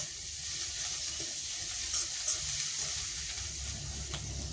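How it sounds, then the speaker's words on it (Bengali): Garlic paste sizzles steadily with small mourola fish frying in a pan for a Bengali fish curry, a close, continuous hiss and crackle with faint stirring and no voices. "এবার দিয়ে দেবো রসুন বাটা, দিয়ে ভালো করে কষাতে হবে"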